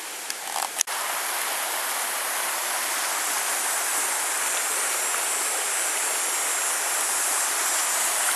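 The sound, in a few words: Credit River flowing, Mississauga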